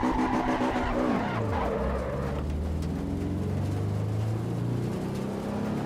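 Racing car engine in the video game Assetto Corsa Evo, a steady loud drone that drops in pitch then settles into a sustained rumble, with a brief skidding edge, heard alone.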